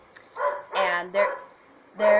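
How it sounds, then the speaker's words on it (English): Pet dogs bark indoors in a quick series of four short, fairly close barks, with a pause before the last one, while a person speaks briefly. "I'm sorry about my dogs barking."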